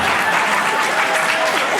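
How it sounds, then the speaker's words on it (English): Dense, steady applause from a large crowd at a San Diego Comic-Con 2019 panel fills the whole moment, loud and close with no pauses. "Give them a great round of applause."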